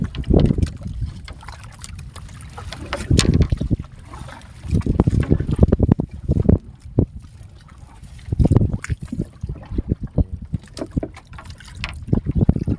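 A small fishing boat's engine runs at sea during squid fishing, a low rumbling drone that swells and fades in uneven surges, mixed with gusty wind buffeting the microphone.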